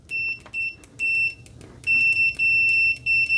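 A UNI-T UT122 multimeter on continuity test with its stock default test leads gives a series of sharp, loud electronic beeps. The beeps come in short bursts, then grow longer and more sustained as the probes make contact.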